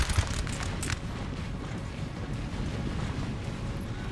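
Artillery explodes in Napoleon: Total War as a steady, dense low rumble with a few sharper booms early on, distant and continuous, with no talking.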